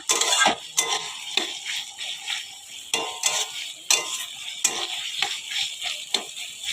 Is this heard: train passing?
no